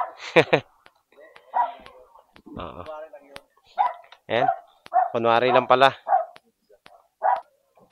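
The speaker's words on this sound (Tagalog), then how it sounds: "Ang daming aso, pinalibutan ako eh." Several short, sharp dog barks and yips ring out close by, interspersed with people talking.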